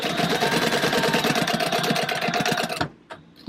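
A sewing machine sews a gusset seam at a quarter-inch allowance with a 3 stitch length for an ita bag, giving a loud, close, steady mechanical chatter for nearly three seconds before stopping abruptly and leaving a few light clicks.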